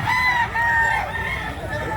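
A native Chinese rooster crows twice in quick succession over a noisy early-morning market background, fairly close and clear.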